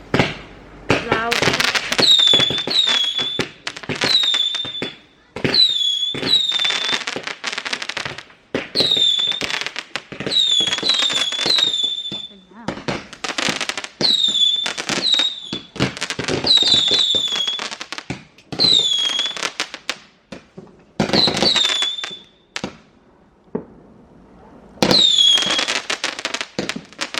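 Bonfire Night fireworks go off over about half a minute: many sharp bangs, crackles and squeaky whistling rockets, some of them loud, with people talking now and then.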